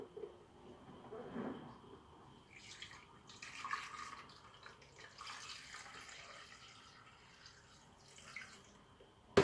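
Water poured into a broccoli juice mixture, a soft, uneven splashing and trickling that comes in bursts over several seconds, fairly quiet and close, with no talk.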